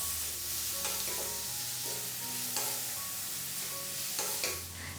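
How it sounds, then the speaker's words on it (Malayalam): Sliced onions sautéing in a pan for egg curry, a steady close sizzle and hiss of frying with a few soft clinks of a spoon stirring, no voices. "അപ്പോൾ സവാളയൊക്കെ ചേർത്ത് കൊടുത്തിട്ട് ലൈറ്റായിട്ട് ഇതെല്ലാം ഒന്ന് വഴണ്ട് വരട്ടെ"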